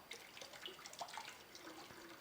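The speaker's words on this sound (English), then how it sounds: "I'm trying to slow the water down." Tap water trickles from a kitchen faucet into a tablespoon, a faint, uneven splashing dribble with small bright drips, heard alone and quietly.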